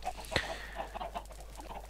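Chickens on a farm in the Minecraft video game cluck in short, scattered bursts, close by and fairly soft, with a sharp click near the start.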